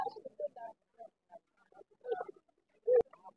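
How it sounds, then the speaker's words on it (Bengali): Pigeons coo at the weekly pigeon, duck and chicken market in Sirajdikhan, Munshiganj, with short, low coos in irregular bursts close by and a sharp click near the end. "এই যে আপনার ময়ূরপঙ্খী লক্ষা কবুতর"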